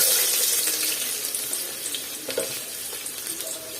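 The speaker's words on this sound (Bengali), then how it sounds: "আর তেলটা আমার গরম হয়ে গেছে আর আমি এখন দিয়ে দিব হচ্ছে পেঁয়াজ কুচি।" Chopped onion hitting hot mustard oil for a bottle gourd and shrimp curry, giving a steady close sizzle with a broad hiss and small crackles and pops throughout, no voices.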